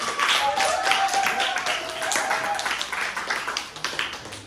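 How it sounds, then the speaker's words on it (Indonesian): Scattered clapping from a classroom group fills a few seconds, steady and moderately loud, with a faint voice or tone running underneath. "Tepuk tangan buat kelompok."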